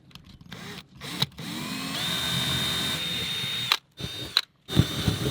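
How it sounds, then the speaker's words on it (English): A power drill bores a pilot hole into a boat, giving a steady, close whine that runs for a couple of seconds, stops, then returns in short bursts between brief pauses. "It's always nerve-wracking drilling holes into your boat"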